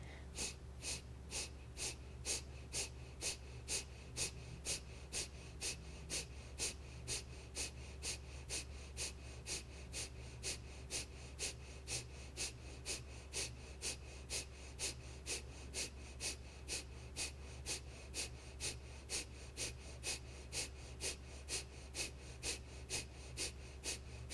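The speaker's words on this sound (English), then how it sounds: "We're going to go for another quick round of breath of fire right here." Rapid yoga breath of fire, a steady train of sharp, evenly spaced nasal exhales at about two per second, sustained and close over a low background hum, with no talking.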